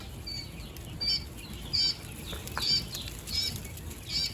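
Quails in a pen flap their wings in short bursts, five or six quick flurries spaced about every second, with faint chirps over a low background hum.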